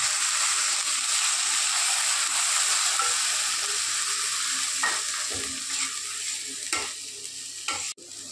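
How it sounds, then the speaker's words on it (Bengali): Cumin seeds, ginger, onion and garlic sizzling together in a hot pan for a fish-bone chorchori, a steady close frying hiss broken by a few scraping stirs of the spatula near the end. "একটু জিরে ফোড়ন দিলাম, দিয়ে আদা, পেঁয়াজ, রসুন সব একসঙ্গে কষে নেব।"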